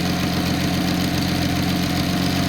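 Datsun 280ZX L28 six-cylinder engine idling on a test stand, a loud, steady mechanical hum with an even low pulse and a faint knocking texture, close by and uninterrupted.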